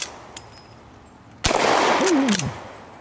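A lever-action Evans repeating rifle in the video game Red Dead Redemption 2 fires one sharp, loud shot, followed by a brief ringing, clanking tail before it fades.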